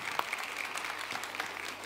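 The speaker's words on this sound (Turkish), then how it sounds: "Seni alkışlayalım ya." A modest audience at a book-fair talk claps in a brief patter of scattered handclaps, fairly faint and slightly distant, with a murmur of voices underneath.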